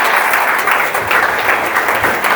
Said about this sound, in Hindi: तो एक बार जोरदार ताली है शुभम के लिए